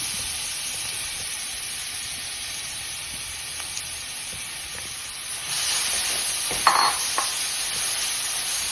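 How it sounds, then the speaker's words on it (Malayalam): Grated carrots sautéing in a pan for payasam give a steady close hiss of frying, which rises a little halfway through, with faint stirring scrapes and no talking. "ക്യാരറ്റ് വഴറ്റിയെടുക്കുന്നു"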